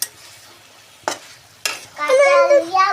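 Meat curry frying in a pan, with two sharp scraping stir strokes close by, followed by a voice talking over the continued frying.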